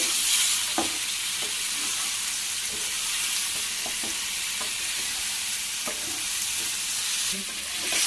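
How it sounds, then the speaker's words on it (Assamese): Jackfruit curry frying in a pan is stirred now and then, a constant close sizzle broken by soft scraping strokes of the spoon, with no one speaking. "এয়া মই মাজে মাজে এনেদৰে লৰাই আছোঁ"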